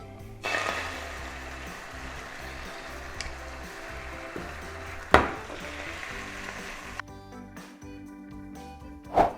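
A second batch of food sizzling and frying steadily in a pan, close and continuous, with a couple of sharp clinks of utensils and a quieter stretch near the end, no talking.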